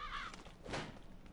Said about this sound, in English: Freaking crows.